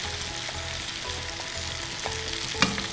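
Red and yellow bell peppers fry on high flame beside cooking paneer, making a steady, close sizzle with faint scraping and one sharp clink near the end.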